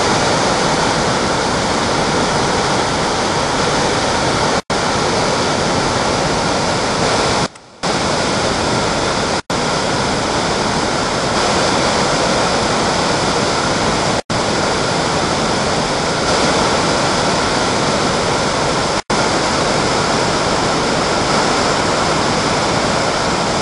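Waterfall on the Dales Way roaring close and loud, a dense, steady broadband rush of falling water that fills the surroundings, with a few brief dropouts and no talk.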